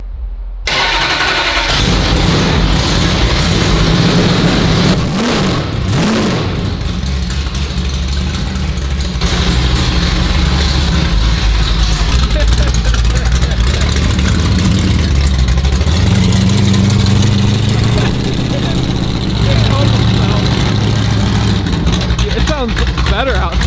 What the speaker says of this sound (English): That's a race motor right there.